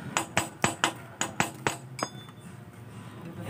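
A hammer taps a push plug on a Kawasaki TMX155 motorcycle to seat its O-ring, six sharp metallic knocks in an even rhythm, close and clear, then a faint ringing decay.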